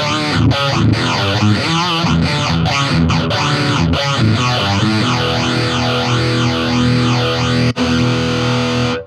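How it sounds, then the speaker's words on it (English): Heavily distorted Yamaha Pacifica 012 electric guitar with a sweeping phaser swirl and a little reverb, loud and sustained, chords ringing with a brief dropout near the end. "I'm gonna pop some phaser on and a little bit of reverb."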